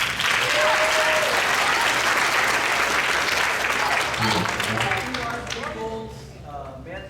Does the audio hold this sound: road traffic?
no